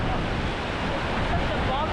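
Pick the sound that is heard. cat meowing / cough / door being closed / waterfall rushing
waterfall rushing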